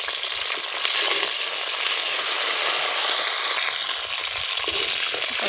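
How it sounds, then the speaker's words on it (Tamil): Mustard seeds and chana dal fry in hot oil for mango pachadi, giving a loud, dense, continuous crackling sizzle with tiny pops throughout. "கடுகு போட்டுக்கலாம். கடலைப்பருப்பு போட்டாச்சுங்க. நல்லா பொரியட்டும்."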